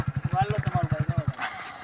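A motorbike engine in a farm field idles in a fast, steady low thumping for over a second, then cuts off, leaving faint background noise.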